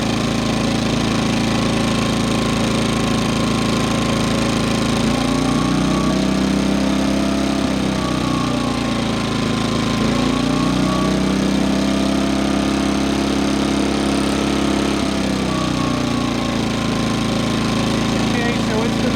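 A new portable generator with a side panel removed drones steadily and loudly in economy mode throughout, with a slight rhythmic wavering in pitch, close by and uninterrupted by voices.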